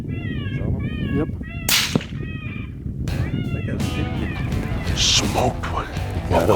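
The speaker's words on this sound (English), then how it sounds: "What I like about shooting suppressed is there is no doubt when you hit something, it's a whoop." A suppressed 6mm Creedmoor rifle fires once in West Texas, a sharp crack striking a bobcat, set among wavering, cat-like wailing calls before and after. Voices speak quietly in the background.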